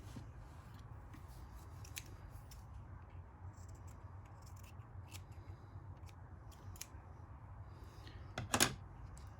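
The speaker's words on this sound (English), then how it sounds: "we're going to trim off that hide right there." Scissors trim hide while a spun collar is built for a Slump Buster fly, giving a few faint, sharp snips over a quiet background, with a cluster of quick cuts near the end.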